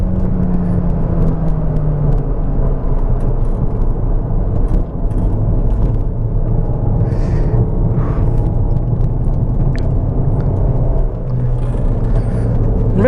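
A car drives a lap at Sepang International Circuit, its engine giving a loud, steady interior drone with a continuous whir and rumble that shift slightly in pitch, with no talking.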